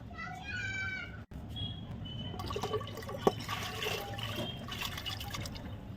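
Water pours into a pressure cooker over tempered green chillies, asafoetida, turmeric and chilli powder for dal, a running splash and fill sound after a brief vocal sound at the start.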